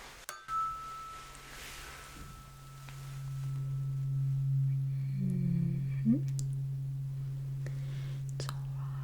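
A tuning fork rings as a faint, pure sustained tone during a close-up hearing test, lingering quietly for several seconds in a hushed room.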